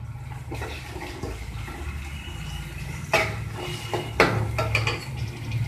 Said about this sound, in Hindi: ये सबको अच्छे से मिक्स कर देंगे।